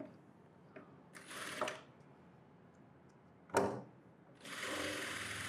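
A sewing machine stitches frock lining in short, quiet bursts, with clicks and handling sounds between runs and a longer steady run at the end.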